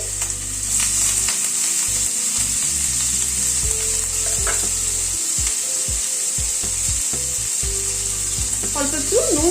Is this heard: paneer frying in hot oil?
yes